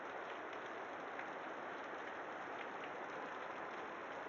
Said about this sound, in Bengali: ওয়াও, কি বৃষ্টি, অনেক বৃষ্টি।